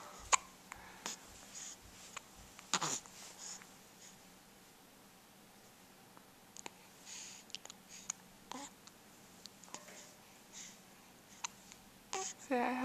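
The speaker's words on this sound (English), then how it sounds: "I have the hiccups" A person hiccups repeatedly, short sharp catches spaced a second or two apart, close to the microphone in a quiet room with faint rustling between them.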